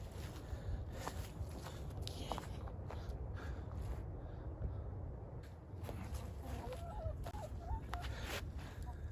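Chickens released outdoors after a snowstorm cluck and call intermittently, with footsteps crunching throughout and a run of clear clucks toward the end.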